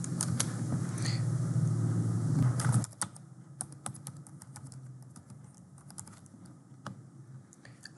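A security key is typed on a computer keyboard while configuring a Cisco AP541N wireless access point: a steady run of quick, close keystrokes, with a low fan hum under the first few seconds.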